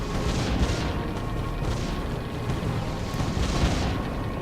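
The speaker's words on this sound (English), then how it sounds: "And we're going to add in another cannon." Cannon towers in the strategy video game Defense Grid: The Awakening fire repeatedly, giving a steady run of muffled booms and blasts over a dense, continuous game soundscape.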